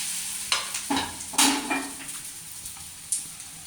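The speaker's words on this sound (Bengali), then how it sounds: "এবার এই সাইডটাকে একটু ভেজে নেব।" A lentil, egg and tomato dish sizzles in hot oil as its other side fries, with a few scraping stirs and utensil knocks against the pan over a soft steady crackle.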